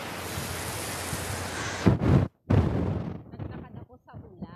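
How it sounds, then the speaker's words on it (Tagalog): Heavy rain pouring outdoors while someone walks through it without an umbrella, a loud dense hiss with a sudden brief cutout, then continuing more unevenly, with a voice speaking near the end. "naglakad ako sa ulan"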